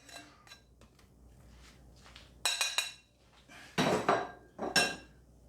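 Meat and its juices are scraped from a bowl into a slow cooker for a casserole, with clattering metal-on-crockery knocks and scrapes, three loud bursts after quieter shuffling, close and with no talking.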